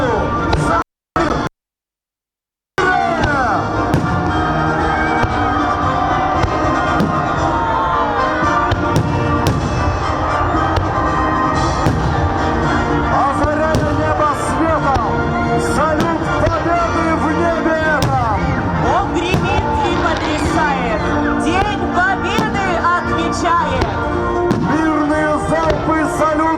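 Fireworks salute at a victory memorial fire show in Syktyvkar: dense, continuous booms and crackling bursts overlapping loudly for most of the stretch after a brief opening, with crowd noise mixed underneath.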